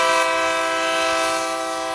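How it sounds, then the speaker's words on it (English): A train horn sound effect blares as a sustained, loud chord throughout, used as a ring signal for an incoming phone call in a live radio studio. "When you hear the train, it means we got a phone call."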